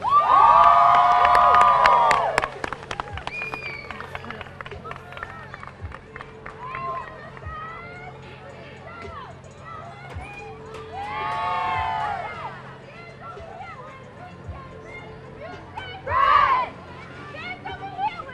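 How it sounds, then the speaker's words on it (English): A crowd at a high school pep rally cheers and whoops for the New Bedford High School cheer team, loud shouting swelling at the start and rising again in bursts later, with voices and babble throughout. "Please make some noise for the New Bedford High School cheer team"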